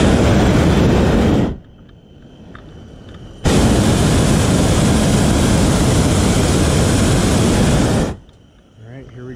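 A hot air balloon's propane burner fires during a training flight: a brief loud roaring blast, a short quiet gap, then a second sustained roar of about five seconds that cuts off abruptly.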